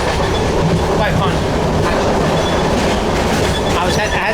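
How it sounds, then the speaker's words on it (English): A passenger train in India rattles along loudly, with a steady clickety-clack of wheels on rails and a continuous rumble throughout. "Traveling on these trains in India"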